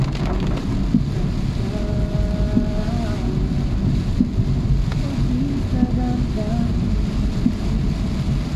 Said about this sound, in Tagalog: Wala, yan yung bagyo.